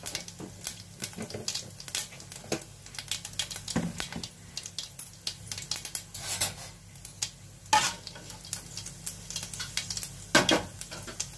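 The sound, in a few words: fenugreek, cumin and fennel seeds spluttering in hot oil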